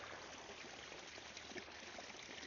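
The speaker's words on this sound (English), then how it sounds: "Okay, the water's flowing." Water flowing steadily from a well into a field, a faint, even rushing wash with no breaks and no voices.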